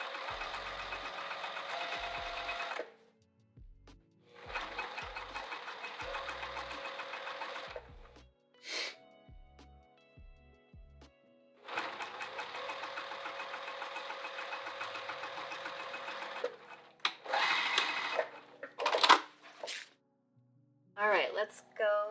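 Several bursts of a sewing machine stitching fabric, each run lasting a few seconds, with a sharp stop-and-start rhythm and short quiet gaps of handling and voice between them.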